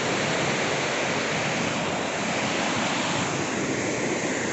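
The Mandakini river rushes steadily at its Rudraprayag confluence with the Alaknanda, a loud, continuous broadband roar of flowing water with no pauses or voices.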